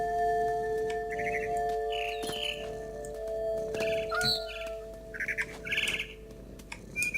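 Bird chirps and squawks in the game What Remains of Edith Finch, bright repeated calls in short bursts over a steady tonal drone, fairly close, with no one talking.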